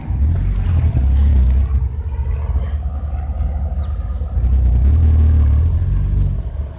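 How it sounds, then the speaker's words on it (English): Steady traffic rumble outside a busy workplace, cars coming and going with swelling engine noise close by, no talk. "A lot of cars coming in and out."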